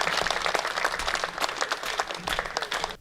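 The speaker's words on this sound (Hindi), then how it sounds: "सर्वाधिक तालियां एक बार हाथ खड़े करके बजाइएगा अनिल चौबे जी के लिए" The audience at a Hindi comedy poetry gathering (kavi sammelan) gives poet Anil Choubey a loud, dense burst of applause with many hands clapping at once, continuous throughout before cutting off sharply.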